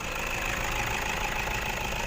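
An eight-year-old Toyota Hilux Vigo Champ 2500, 120 hp, idles steadily with a constant even engine hum, close and alone, no talk.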